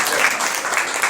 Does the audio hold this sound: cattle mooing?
no